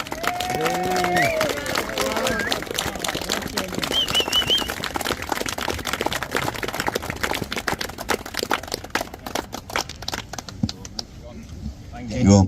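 An audience at a public event in Rochdale applauds to welcome a speaker; scattered voices and tones open, then clapping swells and carries on before fading out.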